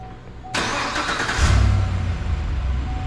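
A GMC Yukon Denali starter cranks and the engine catches with a sudden burst, then settles into a low, steady idle with a brief rev.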